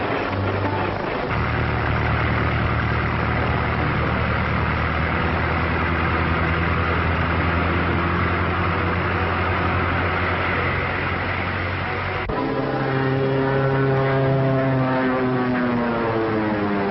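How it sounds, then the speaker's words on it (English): A two-seater biplane's engine and propeller drone steadily and loudly throughout, with a deep harmonic hum that shifts pitch partway through as the aircraft passes or changes power. "Biplane, two-seater, eh?"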